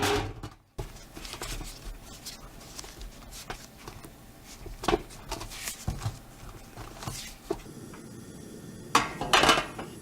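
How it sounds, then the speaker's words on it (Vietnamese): Eggplant pieces set one by one onto a steamer tray in a home kitchen, giving soft, scattered clinks and taps of cutlery and dishware, close and fairly quiet, with a louder cluster of clatters near the end. "Rồi mình xếp cà ra sửng hấp."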